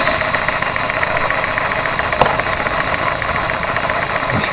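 A model ship engine runs in an engine-room diorama with the compressor switched off, giving a steady close mechanical hum and light rattle with faint knocking, continuous and even throughout.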